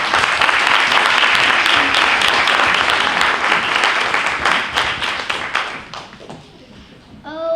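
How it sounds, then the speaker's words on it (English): A big round of applause from an audience at a Ramadan community program, loud dense clapping that gradually thins out and fades, ending with a brief stray sound as it dies away. "please welcome again with a big round of applause"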